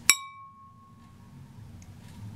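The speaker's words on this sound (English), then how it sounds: "Now, here's the sound of glass." An ordinary piece of glass is struck once, giving a sharp clink and a thin ring that fades within about a second, leaving only low room noise.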